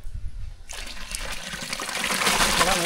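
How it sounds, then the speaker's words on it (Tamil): Washed broken rice is poured into a pot of boiling water, a quiet bubbling giving way to a steady, close rushing pour that grows louder and continues to the end, with no speech. "கழுவி வச்ச குருணை அரிசி வந்து தண்ணியில் சேர்த்துக்கலாம்."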